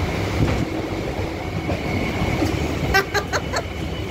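A passenger train pulls out of Bishipur station, its steady rumble of wheels and carriages running throughout, with a few short horn toots near the end.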